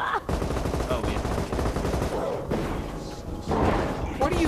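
Rapid gunfire from shooting in the co-op video game Borderlands 2, dense and continuous bursts under game noise, with players talking over it.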